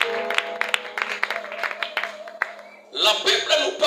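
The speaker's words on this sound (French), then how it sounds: "Acclamons très fort pour la gloire de Dieu" A church congregation claps and cheers for the glory of God, with scattered hand claps under a speaking voice at first, then a louder swell of applause and acclamation at the end.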